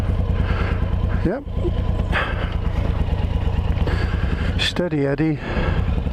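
A Suzuki VLR 1800 Intruder motorcycle runs with a deep, steady engine throb that rises and falls in pitch a couple of times as the revs change, while someone speaks briefly over it.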